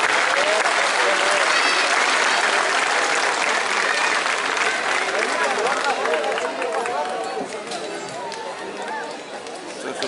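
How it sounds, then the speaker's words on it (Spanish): A crowd applauds loudly and steadily for a rider at a traditional horsemanship event in Pelarco, the clapping dense and sustained, easing slightly toward the end, with shouts and chatter mixed in. "¡Un aplauso!"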